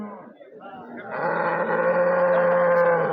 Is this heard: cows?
yes